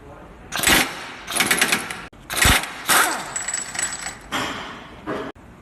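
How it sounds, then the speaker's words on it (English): Pneumatic impact wrench with a 32mm socket loosening a car's axle nut during drive shaft removal, several loud rattling bursts separated by short pauses, close by. "I'm going to put a 32mm socket in an impact wrench to untighten the axle nut."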